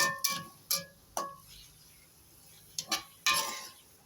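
Three beaten eggs go into a pan of frying beans and carrots, with a spoon scraping and clinking against the pan in a few sharp strokes and a soft sizzle underneath.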